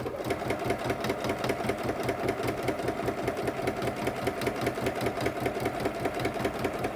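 A sewing machine stitches vinyl onto the front of a project bag, a fast steady mechanical chatter of the needle running continuously and close up without pauses.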